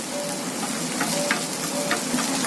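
A spiced filling of boiled carrot and potato for masala dosa sizzles steadily in a pan while being stirred, with a close, continuous frying hiss and light scraping strokes.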